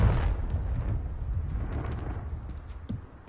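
Confringo fire spell explosion in the video game Hogwarts Legacy, a loud booming blast at the start that decays into a long rumbling tail, with small crackles and a later thud.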